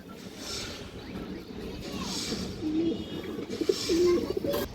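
Pigeons coo softly in a loft of fancy breeds and squabs, a few low rolling calls emerging over a steady background hum, growing slightly louder toward the end.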